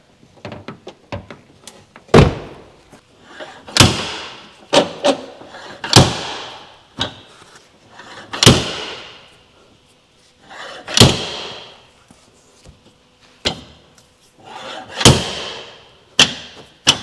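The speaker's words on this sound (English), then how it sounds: "Going to have to open the door to get this put in there." A car door being adjusted for fit swings open and shut, giving about eight sharp, loud slams and heavy thuds at irregular intervals, with softer clunks and rattles between them and no talk.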